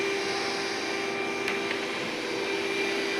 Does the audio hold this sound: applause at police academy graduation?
no